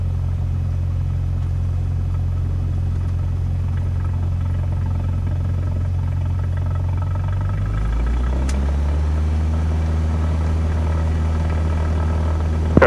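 A small plane's engine drones loud and steady during takeoff from Madison, Wisconsin, its tone shifting partway through as power changes, with no talking.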